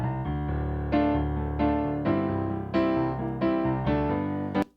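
Sampled piano from a ten-year-old keyboard playing sustained chords, dark and muffled with heavy low end and little top, several chord changes over a few seconds, ending abruptly with a small click.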